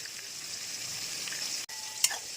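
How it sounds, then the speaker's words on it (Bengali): Dried red chillies and garlic sizzle in hot mustard oil, a steady, close frying hiss with a faint stirring click near the end and no talk. "সর্ষের তেলের মধ্যে আমি কিছু শুকনো লঙ্কা ভাজতে দিলাম আর কিছু রসুন ভাজতে দিলাম।"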